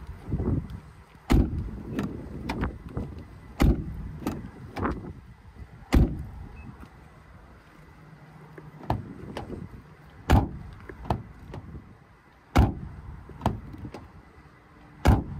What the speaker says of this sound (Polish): Posłuchajmy, jak zamykają się drzwi.